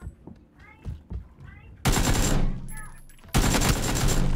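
Video game gunfire with a headshot: two loud, dense bursts of rapid shots that cut in sharply, following quieter game sounds and short bits of voice.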